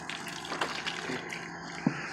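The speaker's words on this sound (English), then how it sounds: "I'm using my tea and I just pour it into my" Tea is poured from a container onto fresh herbs such as bay leaves and basil, a steady soft splashing trickle that runs close by with one brief louder splash near the end.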